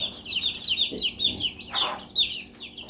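Baby Cornish Cross meat chicks chirp in rapid, high-pitched peeps, a steady overlapping chorus close by under a heat lamp, with a few soft rustles underneath.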